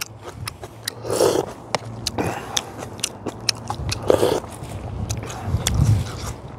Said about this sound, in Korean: 그거 한번 먹어볼게요